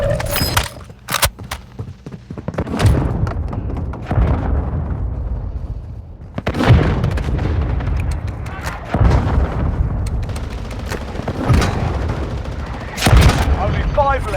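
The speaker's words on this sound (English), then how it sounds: "Friendly mortar strike inbound." Friendly mortar strike explosions in Warzone Mobile, a run of heavy booming blasts and rumbling impacts spread out over time, mixed with gunfire and game voice callouts.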